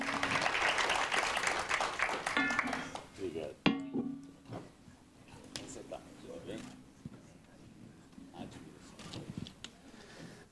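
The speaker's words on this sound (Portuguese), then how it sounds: "Aplausos" Audience applause at a Brazilian deep-tech forum as a startup presenter is called to the stage, dense clapping at first, then thinning into scattered claps with voices murmuring underneath.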